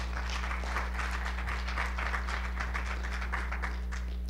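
Audience clapping after competition presentations, a quiet, steady patter of many hands heard from a distance over a low hum.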